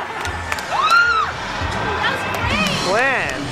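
Lively crowd at an outdoor comedy show on Venice Beach, cheering, whooping and shouting continuously, with high excited yells rising above the steady roar and people talking throughout.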